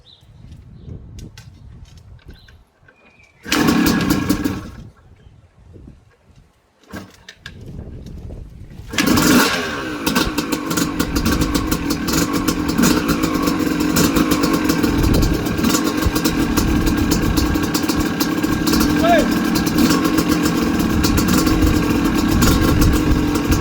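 A WR 250 motorcycle being kick-started: a few short bursts and sputters, then the engine catches and runs with a loud, steady, rough idle that fills the rest of the clip.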